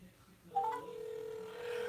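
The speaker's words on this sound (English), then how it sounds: "I'm gonna try to call you real quick" A phone call connects with a short beep, then a steady ringback tone holds quietly, fairly close, with no talking.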